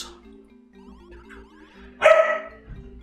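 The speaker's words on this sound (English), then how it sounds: "He's barking at our cat." A dog barks at a cat indoors, one sharp loud bark burst standing out over a low steady background hum, with a softer yip just after.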